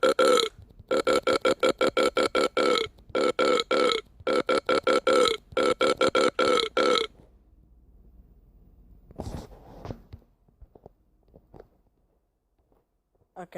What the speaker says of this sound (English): Watch me do this burp remix.